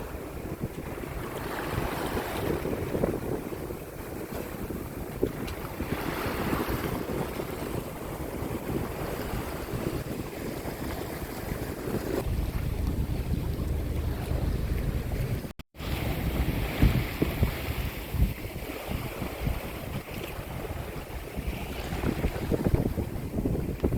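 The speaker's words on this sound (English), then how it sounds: "Sailing away in the med." Wind and water rush past a sailboat under Genoa and mainsail in the Mediterranean, moving at about four and a half knots in 12-knot wind, with steady broadband noise and a brief dropout near the middle.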